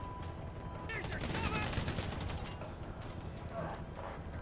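Gunfire in GTA Online, a busy clatter of shots over constant background noise, fairly quiet overall, with people talking over it.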